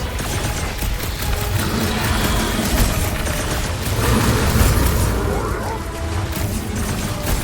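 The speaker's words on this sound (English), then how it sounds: "Hey, Quill, want to see some fireworks?" Fireworks explosions in the Guardians of the Galaxy video game: a dense barrage of booms and pops mixed with mechanical combat noise, with character voices talking over the blasts.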